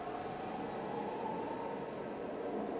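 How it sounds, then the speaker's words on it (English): Subway train sample used as ambience at the start of a song, a steady, loud rumbling roar of the train coming into the station that holds evenly throughout without a break. "So the first thing you hear in the song is actually a subway. It's a subway sample."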